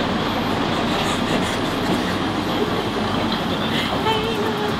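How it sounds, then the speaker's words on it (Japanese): A train rumbles and clatters steadily as it approaches, with broad rolling noise and faint high squeals near the end. "電車来ちゃう、電車来ちゃう、本当に来ちゃう"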